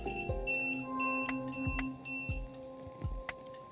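Electric field detector beeping while held near a desk lamp, a steady high electronic tone with short repeated beeps and clicks, close and moderately quiet, no talking.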